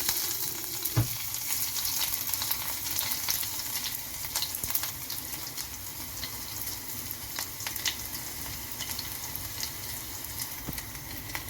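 Shallots fry with mustard seeds in a little coconut oil for a dry fish and mango curry, a continuous soft sizzle broken by scattered small crackles and pops.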